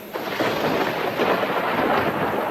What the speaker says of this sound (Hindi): घन गरजे